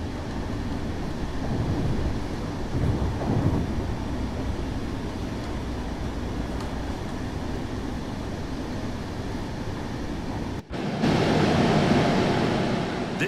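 A DB BR103.1 electric locomotive hauling a train along the Rhine Gorge in a train simulator game gives a steady, continuous rolling rumble and rail noise throughout, with a brief dropout near the end.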